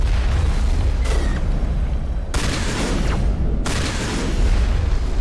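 Heavy shotgun-style blasts from the Carnage ability in Mass Effect Legendary Edition, with loud broadband bursts landing around the two- and three-and-a-half-second marks over dense, continuous game combat noise.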